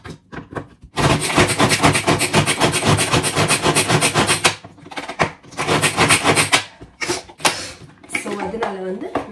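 A small cutter machine slices onions thinly, producing a dense, fast, rasping chop that runs for a few seconds, pauses, then returns in shorter bursts, with someone talking over and between the cutting.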